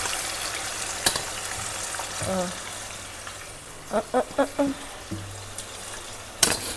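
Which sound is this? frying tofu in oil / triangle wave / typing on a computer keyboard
frying tofu in oil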